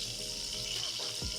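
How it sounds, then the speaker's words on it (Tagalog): Butter heating in a pan, a soft steady sizzle and hiss, faint and continuous over a brief moment with a small clunk near the end. "So painit muna tayo ng butter."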